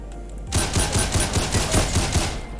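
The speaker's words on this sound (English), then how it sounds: "I'm gonna go with the heavy assault rifle" A heavy assault rifle in Ragdoll Universe fires a single steady automatic burst of about ten evenly spaced, fairly slow shots, loud and close with no talking.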